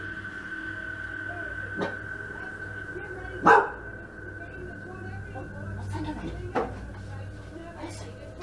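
An upset dog barks at night in a bedroom, giving a few sharp, separate barks with one louder burst in the middle over a quiet indoor background with faint voices.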